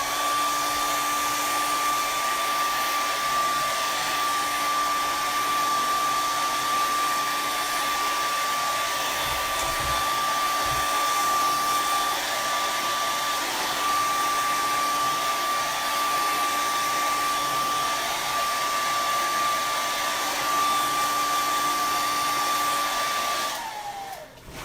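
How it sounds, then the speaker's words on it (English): Hair dryer blowing on a freshly painted box, a loud steady whine with a constant pitch running for over twenty seconds, then cutting off abruptly at the end. "I am going to hit it for just a second with that hair dryer"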